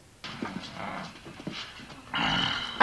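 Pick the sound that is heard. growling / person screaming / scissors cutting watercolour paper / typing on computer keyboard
growling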